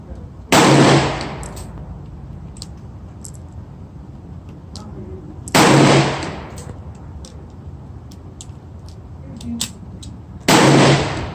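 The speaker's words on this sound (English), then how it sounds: "I'll be shooting with Georgia Arms ammunition." A Smith & Wesson Model 19-5 revolver fires Georgia Arms .357 Magnum rounds, three sharp, loud shots spaced about five seconds apart, each with a brief ringing tail over low outdoor background noise.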